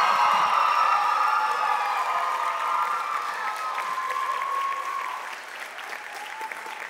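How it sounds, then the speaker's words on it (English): Loud, sustained audience applause with scattered cheers closes a Bharatanatyam arangetram dance recital, steady and dense at first before easing slightly toward the end. "please give the loudest round of applause as she concludes her arangetram"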